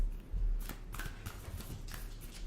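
A deck of animal oracle cards is shuffled by hand, with several quick riffling bursts of paper flicking close by over a low background rumble.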